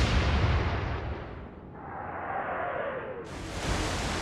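Naval gunfire aimed at a cruiser in the naval strategy game Atlantic Fleet: a loud broad blast with rumbling roar, a descending whoosh of the shell in flight, then a sharp burst of noise as it lands.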